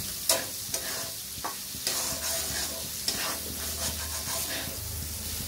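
Bitter gourd frying in oil with turmeric, a steady close sizzle with occasional sharp clicks and scrapes of stirring against the pan, no voices.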